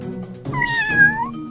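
A cat gives a single drawn-out meow, close and clear, rising then falling, with no talking around it.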